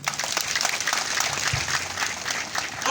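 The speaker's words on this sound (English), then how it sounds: "Let's clap for her." Mourners at the burial of a former minister clapping in tribute, a sustained patter of many hands outdoors, moderately loud and steady, with a brief low thump midway.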